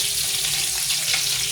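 Garlic and onion sizzle in hot oil in a pan, a brief, bright, even frying hiss heard close up and alone.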